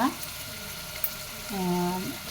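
Fennel seeds, cloves and cinnamon sizzle in hot oil in a pan for vegetable biryani, a steady close frying hiss with a brief spoon clink and a voice talking over it.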